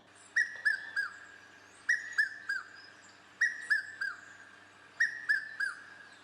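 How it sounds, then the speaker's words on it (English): A recorded red-chested cuckoo call plays from a phone, four evenly spaced bursts of three clear, descending whistled notes each, crisp and close with quiet gaps between. "I'm just going to use my phone to play a recording of his call"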